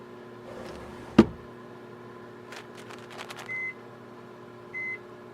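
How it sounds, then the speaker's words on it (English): A microwave oven heating lasagna gives a short thunk of the door or button, then faint beeps and a low steady hum, quiet and close. "I'm gonna microwave you some lasagna, okay?"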